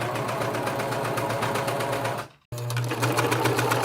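A serger runs steadily while stitching the center seam of a jacket hood, trimming about 4.5 millimeters of printed thrifted fabric. It makes a fast, even hum, stops briefly near the middle, then resumes.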